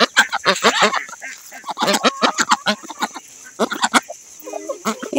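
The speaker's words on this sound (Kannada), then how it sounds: "ಒಟ್ಟು 4 ಬಾತುಕೋಳಿ ಇದೆ, ನೀವು ಅಲ್ಲಿ ನೋಡ್ಬೋದು" Four ducks at a home yard call close by in loud, honking quacks, with bursts of overlapping calls separated by brief pauses.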